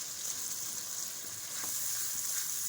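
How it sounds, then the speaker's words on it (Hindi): Green and dried chilies fry in a dal masala with a soft, continuous hiss, faint and even across the short stretch, with a couple of small crackles. No voices. "और अब हम ऐड करने लगे हैं हरी मिर्चें और जो सूखी मिर्च है वो डालेंगे इसमें"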